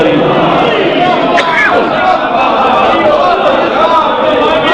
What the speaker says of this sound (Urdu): نعرے دا سارے جواب دے وہ حیدری